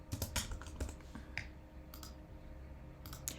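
Typing on a computer keyboard while working in Blender, a quick burst of close key clicks followed by a few sparse taps and a short pause in between.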